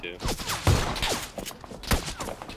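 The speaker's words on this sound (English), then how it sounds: "Now the guy behind me shooting at me!" A burst of rapid gunfire from an enemy player in PUBG crackles around a player's frantic, shouted talk, with several quick overlapping shots.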